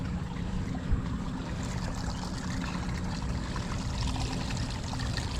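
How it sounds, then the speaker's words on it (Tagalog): Strong irrigation water gushes steadily into a farm field, a dense continuous rushing roar with no pauses and no voices. "malakas yung patubig natin mga katongs"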